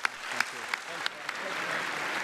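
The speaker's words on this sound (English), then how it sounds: "a big round of applause for Diego Castro, the winner of the Johnny Warren Medal" Applause at a football awards night for the Johnny Warren Medal winner, crowd clapping rising into a fuller wash, with a few distinct sharp claps near the start and a voice talking over it.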